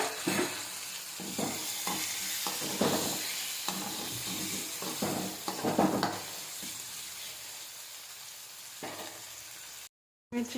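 One chopped tomato sizzling in oil with turmeric in a pan for a brinjal fry, a continuous hiss broken by repeated scraping stirs of a spoon, close and fairly soft, with a brief silent gap near the end.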